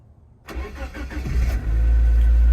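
A Chevy (Geo) Metro engine cranks briefly, then catches and settles into a steady, loud idle rumble close by.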